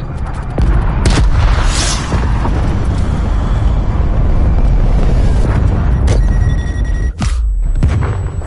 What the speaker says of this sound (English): Artillery inbound. Cruise missile inbound.